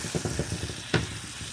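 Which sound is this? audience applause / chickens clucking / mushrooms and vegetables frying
mushrooms and vegetables frying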